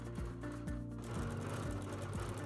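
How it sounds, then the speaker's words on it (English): A sewing machine quilting tumbling-triangle patches with partial motifs runs in a steady, close, droning hum. Its needle rhythm shifts pitch briefly at regular intervals, alone and with no talking. "now I'm quilting down to the base again, and then I'm quilting those partial motifs as I work up this side"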